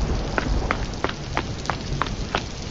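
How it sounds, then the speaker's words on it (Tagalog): Heavy rain in an animated scene, a steady dense hiss of falling water with small regular drop taps, continuous and fairly close, with no talking. "Ang lakas ng ulan,"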